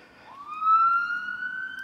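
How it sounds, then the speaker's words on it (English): A hot ambulance siren sounds outside near the West Somerset Railway, one long rising, steady wail that swells to a loud, close peak, then holds while passing, heard alone without talk. "We have the sirens. It is a hot ambulance, I'm guessing."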